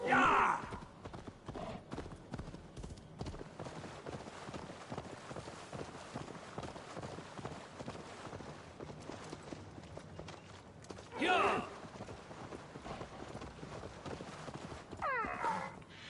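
Hooves clip-clop in a quick, steady rhythm under a busy wash of Assassin's Creed Valhalla game noise and music, with a few louder bursts cutting through.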